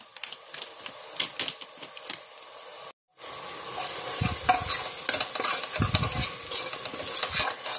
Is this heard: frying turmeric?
yes